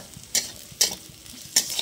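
Onion and dried red chilli frying in hot oil in a home kitchen pan, with a spatula scraping and stirring three times in a steady rhythm over a faint continuous sizzle.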